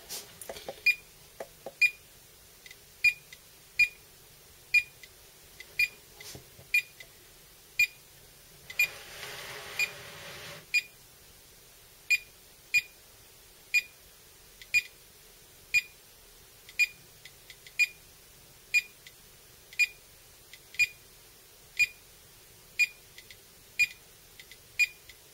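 GMC-320 Geiger counter beeps near americium-241, short sharp tones repeating at a steady rhythm about once a second, close and fairly loud over quiet, with a brief rustle partway through.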